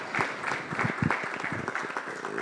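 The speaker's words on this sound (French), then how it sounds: "vous pouvez l'applaudir" Applause for prize winners at a Haute-Marne ideas competition ceremony, a dense patter of many hands clapping close by at steady volume for a couple of seconds.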